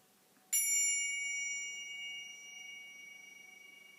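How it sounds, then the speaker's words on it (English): A single bell struck once to open a beginners' hip-opening yoga class, a clear bright ding with a sharp onset that rings on and slowly fades over several seconds in a quiet room. "Class will begin with the start, the ring of this bell"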